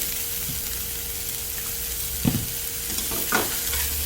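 Salted, rinsed carrot strips stir-fried in a pan, a steady low sizzle with occasional spatula scrapes and clacks against the pan, close and moderately loud, no talking.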